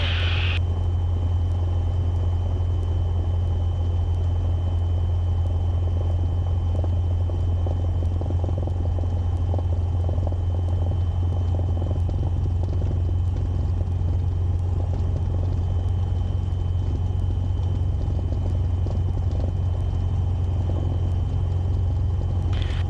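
A small training airplane taxis toward the runway, its engine and propeller making a loud, steady droning rumble that continues without a break from start to finish.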